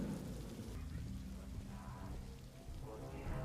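Steady rain falling on surfaces in a scene from the Andor TV series, a soft continuous patter with low rumbling underneath, fairly quiet throughout.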